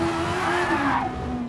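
A Super Formula race car at Fuji roars close by, its high engine note sweeping upward and then falling away as it passes, loud and continuous.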